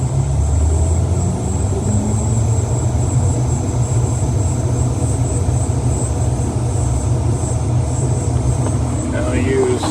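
A combine harvester engine runs throttled all the way up, a loud steady droning roar with a constant high whine on top, close and unbroken for the whole stretch.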